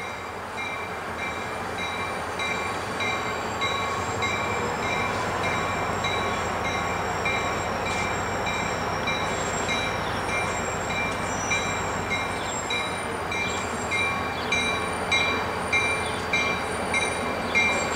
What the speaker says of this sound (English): NYS&W number 3040 is bringing its train southbound on Schuyler